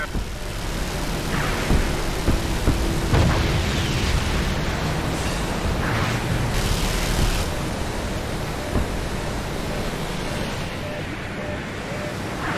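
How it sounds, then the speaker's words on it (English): Missile launch and explosion in Just Cause 2, a broad roaring rush of noise with booming swells and sharp bursts around the middle, sustained and loud over a rumbling background. "Launching missile."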